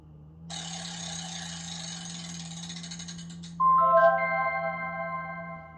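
A prize wheel in a game spins with a rapid run of clicks, then a bright chiming jingle rings out as it stops.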